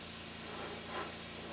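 An air compressor runs while texture paint is sprayed for a faux marble finish, giving a steady, even hiss over a low mechanical hum, continuous and fairly close, with no talking.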